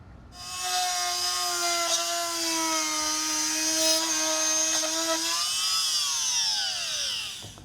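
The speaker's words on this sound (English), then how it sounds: "use a drill or a Dremel with an 1/8 inch drill bit and cut it down the middle" A high-pitched drill with a 1/8 inch bit whines steadily, cutting into a Mustang door hinge metal roller with a sustained tonal scream that slowly drops in pitch before winding down near the end.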